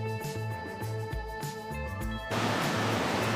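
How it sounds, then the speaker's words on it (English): A powerful cascading waterfall in Pokhara, Nepal, bursting out of a tunnel into a cave, heard as a sudden steady broadband roar that follows a few seconds of music. "It's a powerful and cascading waterfall that comes out of a tunnel and goes into a cave"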